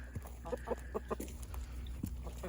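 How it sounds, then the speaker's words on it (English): Chickens, hens and roosters roaming freely on a Nebraska farm in winter: a run of soft, repeated clucks close by, over a low steady hum. "the chickens and hens and roosters are still just roaming around"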